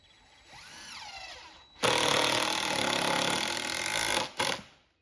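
A power tool drives 3.5-inch screws into a 2x4 brace with a loud, sustained whirring grind lasting about two and a half seconds, then a brief second burst, after a quieter rising motor whine.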